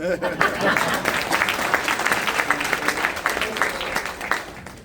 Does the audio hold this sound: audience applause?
yes